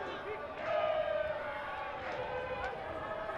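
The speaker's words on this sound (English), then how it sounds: "Gardens supporters in the crowd certainly are in full voice at the moment, starting to sing." Rugby supporters in the stands at a Gardens versus Raiders match sing together in full voice, a sustained, far-off choral drone with broad crowd noise beneath it that swells early and then holds steady.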